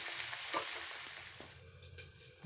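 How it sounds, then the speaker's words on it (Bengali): Potatoes and pointed gourd fry in a pan with a steady, close sizzle, broken by a few soft stirring scrapes and light clicks. "এই আলু আর পটল এটাকে ভেজে নিচ্ছি"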